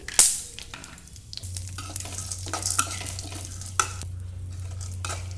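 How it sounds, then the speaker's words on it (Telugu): Pumpkin and sunflower seeds fry slowly in ghee on low heat, a soft steady sizzle with intermittent stirring scrapes and a few sharper clicks of a utensil against the pan; no one speaks. "వీటిని కూడా సిమ్లో పెట్టుకొని స్లోగా లోపల దాకా కుక్ అయ్యేలాగా ఫ్రై చేసుకోవాలి"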